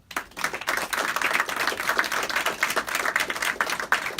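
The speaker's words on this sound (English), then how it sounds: "I'm going to personally lead in a round of applause for you." Applause in a county government room during a 2019 budget signing, steady clapping from a modest crowd with some sharper individual claps, fairly close and sustained throughout.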